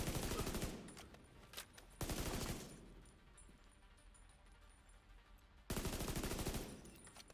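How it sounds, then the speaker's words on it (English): Three loud bursts of rapid automatic gunfire in a video game, each a dense rattling volley lasting under a second, separated by quieter stretches with a faint high electronic tone. "Was that gunfire?"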